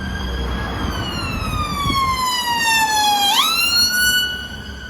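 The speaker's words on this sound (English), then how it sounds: "I know it's an ambulance and somebody's rushing to get somebody." An ambulance siren wails loudly and close as the vehicle passes, its pitch dropping sharply partway through, then continuing steadily as it moves off.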